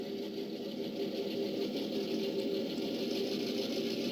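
A steady low mechanical hum of a model train engine sound idling under DCC control, constant and even throughout with no talking.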